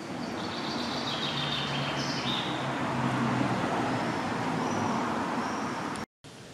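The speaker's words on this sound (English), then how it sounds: "So unfortunately there are many cars" Steady traffic noise from many cars in a French town street, a continuous loud roar with faint birds chirping above it and a brief dropout near the end.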